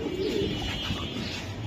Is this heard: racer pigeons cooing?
yes